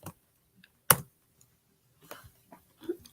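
Sparse, quiet clicks of typing on a phone for a text message, a few isolated taps separated by silent gaps.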